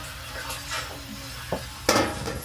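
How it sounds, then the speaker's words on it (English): Onions cooking down in a pan with meat, a soft continuous sizzle broken by a couple of utensil clinks and one louder scraping stir. "Then add those onions to it. Let the onions just start cooked down."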